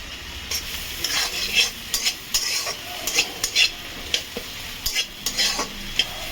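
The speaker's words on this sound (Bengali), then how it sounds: "ভালো করে ভেজে ফিরছি। এবার নাড়বো।" Chopped onion sizzles in a frying pan while a utensil stirs it in repeated scraping strokes, steady close frying under irregular metallic scrapes, with no voices.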